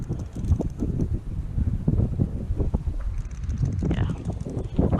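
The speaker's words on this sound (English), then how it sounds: "I know you probably hear a ton of wind on that camera right now because it is super windy out" Strong gusty wind roars and buffets a camera microphone outdoors by the water on a pan-fishing outing, in uneven low rumbling bursts with no talking.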